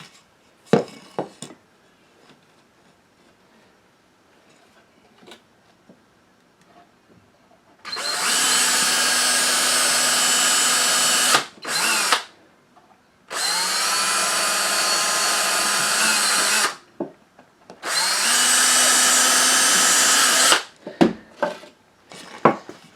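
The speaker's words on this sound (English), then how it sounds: "I'm going to make a few pilot holes before with the drill bit before we fasten it" Power drill boring pilot holes into wood for a hinged soap mold, three sustained bursts of a few seconds each with short pauses between and scattered handling clicks before and after.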